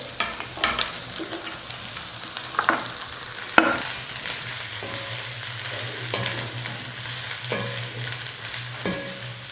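A quarter kilo of cabbage fries with sautéed onions in a pan, giving a steady close sizzle broken by scraping stirs and spatula knocks, with no voices.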